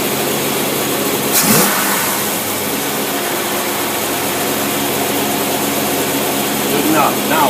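An engine fed by a Holley carburetor runs loud and close with a steady mid-pitched roar, swelling slightly as it is revved, with a brief clatter near the start.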